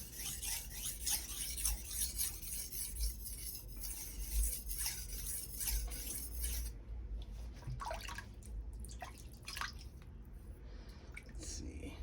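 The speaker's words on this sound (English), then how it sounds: "I always like to stroke on a clean stone." A ZDP-189 steel Bunka knife is stroked across a Suehiro 1000/6000 combo whetstone, a steady wet rasping scrape repeating in strokes, close and fairly quiet, with a voice talking over parts of it.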